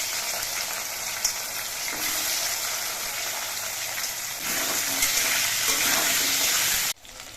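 A dense, steady hiss of taro pieces frying in hot oil, loud and continuous, swelling slightly toward the end before cutting off abruptly.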